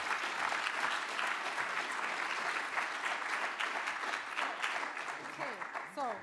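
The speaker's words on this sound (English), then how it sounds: "I think this deserves a round of applause" Conference audience applauding steadily and loudly throughout, a dense wash of many clapping hands that tapers slightly at the very end.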